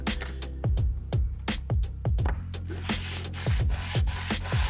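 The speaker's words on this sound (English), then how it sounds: "sanding the flat parts of the blade at the same grit" Repeated back-and-forth scraping strokes, close and rhythmic, with short pauses between bursts, as the flat of a balisong knife blade is sanded on an abrasive block.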